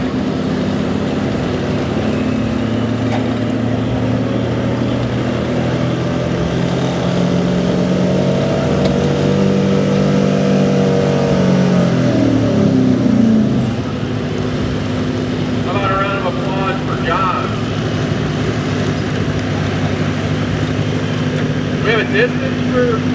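Gas 4x4 truck, a 2004 Chevrolet, pulling at a truck pull event, engine roaring loud and rising in pitch before cutting off, then crowd and background noise with an announcer faintly present.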